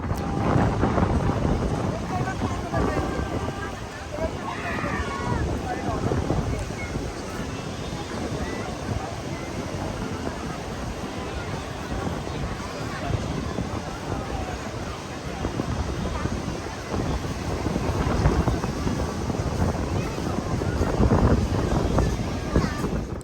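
Wind buffets the microphone at a seashore in Puri, with a steady broadband rush of surf and breaking waves running continuously underneath, loud and unbroken throughout.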